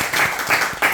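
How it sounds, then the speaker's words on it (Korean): A church congregation claps in brief bursts, a close, loud patter of hands in a quick pulsing rhythm over about a second. "우리가 박수."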